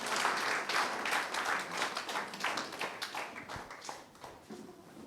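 A church congregation claps together in a lively, rhythmic burst of applause that fills the room, then gradually eases off toward the end.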